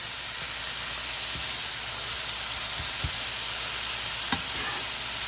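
Shaved beef with peppers, onions and mushrooms sizzles in butter and olive oil on a griddle, a loud constant frying hiss with occasional spatula taps and scrapes, no talking.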